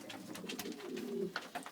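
Texan pigeons, a male and a female, give soft, low, repeated coos close by in a quiet setting, with a few faint higher chirps toward the end.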